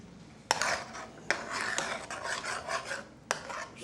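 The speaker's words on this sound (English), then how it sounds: "Stir it up" A spoon scraping and rasping around a cooking pot as food is stirred, with a few sharp metallic knocks against the rim between steady rubbing strokes, close and fairly quiet.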